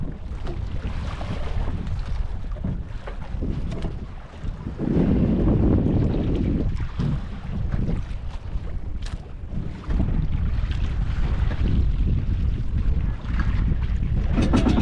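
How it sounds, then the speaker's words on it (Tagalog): Strong wind and rough waves during a boat trip, a loud continuous roar of wind noise hitting the microphone with water sloshing underneath, no voices. "Medyo mahangin-hangin pero hindi naman gaanong kalakihan ng mga alon."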